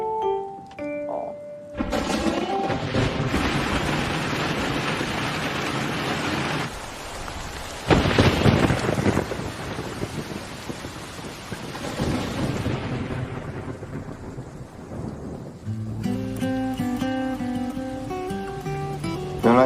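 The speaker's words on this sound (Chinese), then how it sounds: "连下雨天也这么好看。" A thunderstorm with rain in a drama scene, where a dense wash of rain and rumbling thunder swells over music and then drops away as the score carries on alone.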